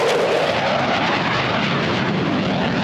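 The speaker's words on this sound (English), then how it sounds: "this is an air show after all, so let's just enjoy the planes for a bit." Airplanes at the Oregon International Air Show, a loud, steady broadband engine roar that fills the whole stretch without a break, as if an aircraft is passing close overhead.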